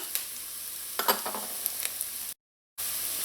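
Garlic sautes with fresh thyme and other herbs in a hot pan, a soft, steady sizzle with faint crackles and a brief stir, fairly quiet and close, with no talking.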